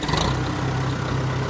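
A tractor engine idles steadily with its standard hydraulic pump, a low, even diesel rumble heard up close for a brief moment without any speech.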